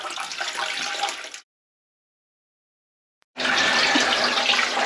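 Water rushes loudly through a 36-radiator heating system during a flush, a steady close gush that cuts out to silence for about two seconds, then returns just as strong.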